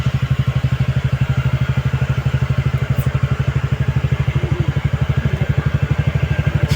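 A motorcycle engine runs close by with a steady, rapid low throbbing pulse that holds at a constant level throughout, with no talk over it.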